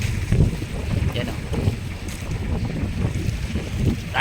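Strong monsoon wind buffets a fishing boat at sea, a constant low roar of gusts and microphone rumble over churning water, with faint voices in the background.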